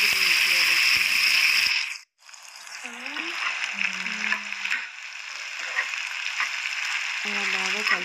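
Dal and seasonings fry in hot oil in a home kitchen, a bright sizzle that cuts out briefly and returns as the pan is stirred, with someone talking over the cooking.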